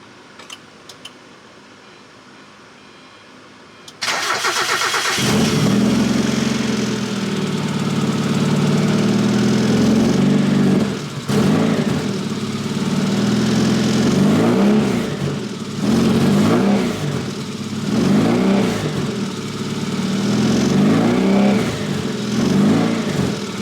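A Mazda Miata engine cranks and starts after a few quiet seconds, then runs loud and close with repeated revving surges and dips, no voices over it.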